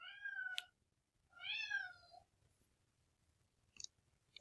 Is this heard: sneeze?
no